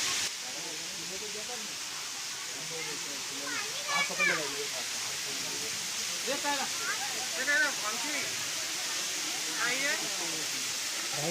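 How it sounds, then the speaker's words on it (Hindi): Steady broadband rush of a waterfall flowing near a cave at Gogunda, Udaipur, continuous and moderately loud throughout, with people talking over it in bursts. "यहाँ पर एक झरना भी बहता है।"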